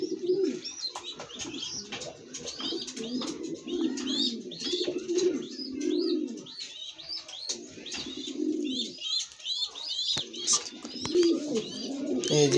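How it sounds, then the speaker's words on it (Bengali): Long-distance racing pigeons coo in a steady, low, rolling murmur close by, while smaller birds chirp brightly over them throughout. "এই যে এটা লং ডিস্টেন্সের কবুতর"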